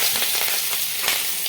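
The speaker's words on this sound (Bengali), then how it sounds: "এখন আমি তেলের মধ্যে দিয়ে দেব কালো জিরে।" Black cumin (nigella seeds) sizzling in hot oil, a loud, close, steady hiss with fine crackling throughout and no talking.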